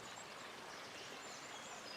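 Steady broadband rush of a river flowing beside a glade, continuous and even, heard alone with no voices, soft and close.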